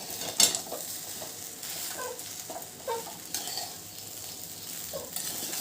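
Rice being stirred with biryani masala powder and a spoonful of salt, soft scraping and clinking of a spoon against the pan over a faint sizzle, close and fairly quiet, no voices.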